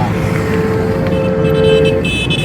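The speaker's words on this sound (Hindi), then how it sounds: "जब पीछे गाड़ी चले आवाज भी देती है" Reverse-gear warning from a loader rickshaw, a loud steady electronic tone held for about two seconds over a close engine idle.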